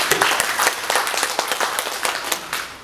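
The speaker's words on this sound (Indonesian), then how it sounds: "Tepuk tangan teman-teman" Attendees at a community meeting on a proposed new autonomous city region clap together, a close, lively burst of overlapping handclaps with distinct sharp claps standing out, slowly tapering.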